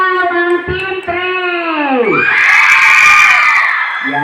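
A game-show team in a crowd yells and cheers loudly, with a sustained chorus of raised children's and adult voices that rises into a roaring whoop near the end.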